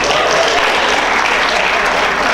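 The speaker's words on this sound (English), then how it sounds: "You can clap for them." Dense, loud applause from a comedy-club audience clapping for a stand-up comedian's cousins in the house, a steady wall of hands throughout with no voices over it.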